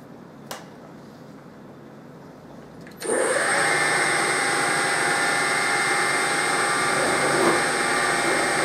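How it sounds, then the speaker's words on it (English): A small spotting drill starts up after a faint tap, spinning with a steady high-pitched whine and broadband machining noise that holds evenly to the end. "And I've got a little spotting drill in here."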